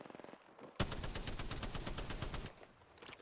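A Spitfire light machine gun in the video game Apex Legends fires a sustained burst of rapid, evenly spaced shots at close range, loud and continuous for about two seconds, followed by a short trailing burst.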